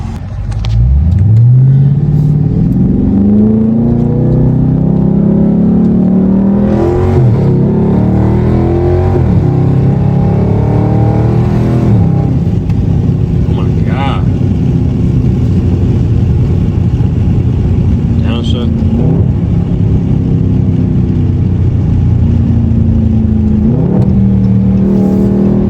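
A Dodge Charger Scat Pack on Pirelli tires revs hard with a deep, loud engine roar that climbs and falls through repeated pulls over about twenty-five seconds, continuous and close with no talking.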